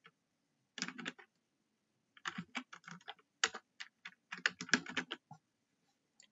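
Bursts of quick clicks from a computer keyboard as text is typed, clustered in short runs with pauses between, close and fairly quiet with no speech.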